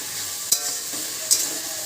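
A paste of ginger, garlic, onion and chili fries in a pan for a drumstick curry, a steady close sizzle broken by two sharp scraping stirs of a spoon against the pan.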